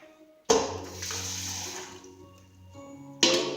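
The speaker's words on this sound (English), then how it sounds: "Fill it with water" Tap water pours into a large pot, starting abruptly with a rushing splash and settling into a steady filling roar whose tone shifts as the pot fills, then surges again near the end.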